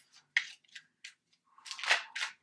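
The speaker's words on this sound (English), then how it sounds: "I'm going to keep shuffling now" Tarot cards being shuffled by hand give a string of crisp, close papery riffles and snaps in short separate bursts, with a longer busier flurry near the end and silence between.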